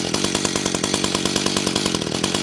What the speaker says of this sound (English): you're gonna adjust your idle to get that freaking chain to stop moving